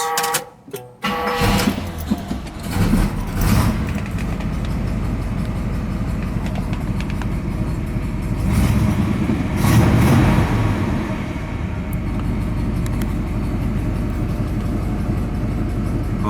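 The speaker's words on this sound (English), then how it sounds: "Start her up and see what she sounds like with those trumpet tips." A 1970 Oldsmobile 442 convertible engine with trumpet exhaust tips cranks and starts, then settles into a loud, steady idle with a brief rise in revs midway, close and alone.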